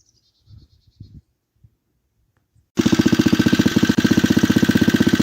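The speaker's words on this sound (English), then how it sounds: "Well, I got the generator running again" Following a few faint knocks and near silence, a house generator engine recently fitted with a new valve spring retainer starts and runs loudly, chugging with a rapid, even pulsing beat.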